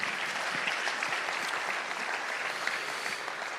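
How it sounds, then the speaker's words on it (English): An audience at a Sahel governance forum gives a speaker a steady round of applause, a dense, even wash of many hands clapping that holds for several seconds without talk. "Another round of applause for Jainaba, please."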